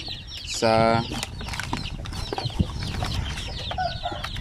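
Baby chicks being given vitamin water cheep in quick, high-pitched peeps, with one louder clucking call near the start and soft rustling from the birds close by.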